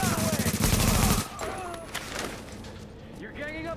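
Suppressed gunfire in the Tom Clancy's The Division video game, with a dense burst of muffled rapid shots up front followed by a few scattered quieter shots and game effects.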